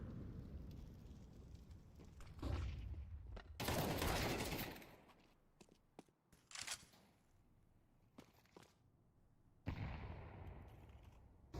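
Counter-Strike rifle gunfire during a professional online finals esports match: loud rattling bursts and scattered single shots, with a heavy sustained volley partway through, then quieter gaps and another burst near the end.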